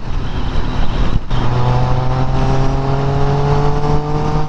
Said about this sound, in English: That engine roars when it wants to.